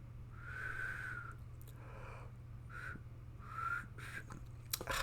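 Breath drawn through a gap in the teeth makes a series of thin, wavering whistles, several separate short tones over a low background hum, faint and close.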